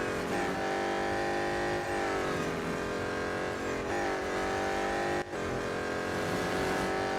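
Engine of a BMW M Hybrid V8 race car in Real Racing 3, roaring loud and steady as it accelerates hard, with dense harmonic drone over several seconds and a brief dip before surging on.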